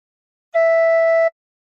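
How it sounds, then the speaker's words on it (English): One tin whistle note with fingers 1 to 4 covering holes 1 to 4, blown harder: a clean sustained tone held for about three quarters of a second, close and alone in silence. "And put fingers 1 to 4 on holes 1 to 4 and blow a bit harder once."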